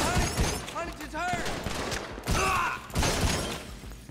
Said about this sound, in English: Blast everyone in the garage with the shotgun.